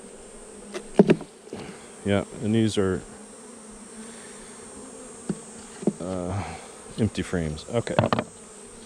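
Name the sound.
honey bees buzzing around hive frames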